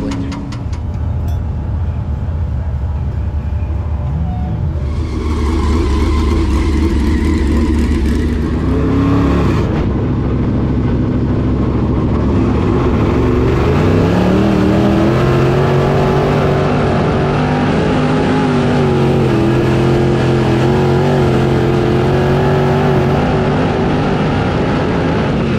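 A late model race car on a qualifying lap at Southern Raceway: a loud, steady engine drone that rises in pitch as it builds speed, with shifting revs and no talk.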